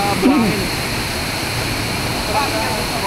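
Rushing water from Gabaldon Falls roars as a steady, broad wash, with people talking briefly over it.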